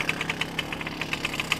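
A classic 1962 Zundapp Combinette moped engine, kick-started with the pedal, runs with a rapid, even putter of sharp knocking beats close by, no talk over it.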